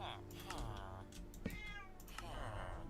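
A house cat meows several times in short, distinct calls, close and clear, while someone talks over a steady background hum.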